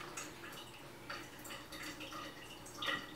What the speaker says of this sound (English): Why is my sink dripping?